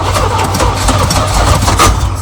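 A 1972 GMC Jimmy that sat unused for 20 years cranks and catches, its engine settling into a steady, loud, close rumble with a constant low drone for the whole stretch.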